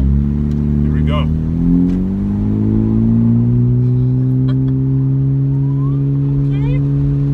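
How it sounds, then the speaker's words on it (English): A 2018 Honda Civic Hatchback Sport's turbocharged engine pulls hard under acceleration on a freeway, a rising hum heard from inside the cabin, with people talking over it. "she got that turbo going"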